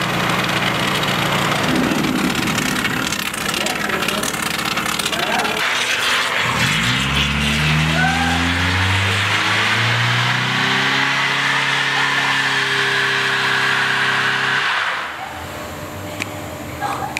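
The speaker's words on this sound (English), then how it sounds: "people are out there doing burnouts" Cars do burnouts outside a shop, with loud, sustained engine roar and rising revs over a steady wash of tire-spinning noise. The roar runs for about fifteen seconds, then drops away abruptly.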